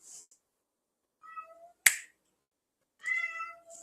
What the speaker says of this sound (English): Quiet, cat.